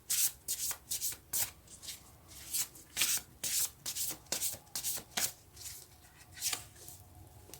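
Tarot cards shuffled by hand in a steady series of crisp riffling, rubbing bursts, close and fairly quiet, with no talking.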